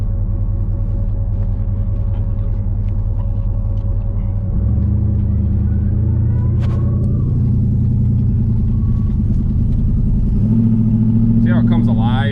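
An LS-swapped Firebird V8 idles with a deep, uneven rumble while running rough and missing. It rises in pitch twice as it picks up revs, and a voice is faintly heard nearby.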